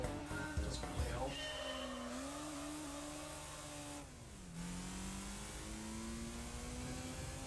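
A car engine in Gran Turismo 3 accelerates steadily with a rising, shifting mid-pitched drone, a brief dip around a gear change, then climbs again; loud and continuous throughout.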